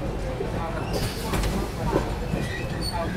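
Passenger train Mahabodhi Express running on Indian rails, a steady rumble with wheel squeal and faint clatter, close and continuous through the whole span.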